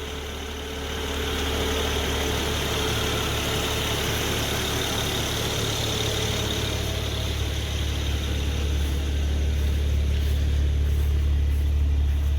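A 2009 BMW Z4 sDrive35i with a 3-liter twin-turbo straight-six idles smoothly, a steady, moderately quiet low hum that rises slightly in level after the first second.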